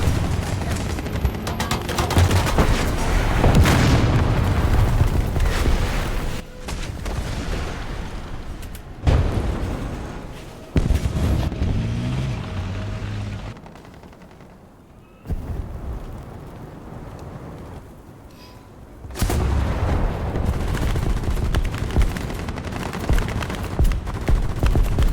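An artillery strike in a tank video game: heavy booms and rumbling explosions come in loud bursts, separated by quieter stretches of distant rumble.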